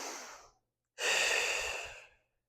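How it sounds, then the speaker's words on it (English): Two slow breaths during a beginner Pilates mat stretch, a short exhale trailing off, a pause of silence, then a longer, fuller breath out lasting about a second, close and soft. "One more breath."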